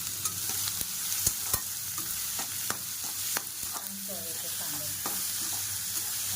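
Chopped onions sizzling in a pan as sukat, a dried-shrimp dish, is cooked, with a steady fry under occasional sharp clicks of a spatula against the pan and no talk.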